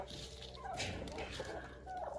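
Roosters kept for the cold season in a polycarbonate greenhouse give a soft, continuous gobbling murmur against a steady background hum, faint and slightly distant.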